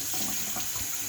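Tap water runs steadily into a sink while a spoon is rinsed during cooking of rice and stew, a continuous close splashing hiss with faint clinks and no talk.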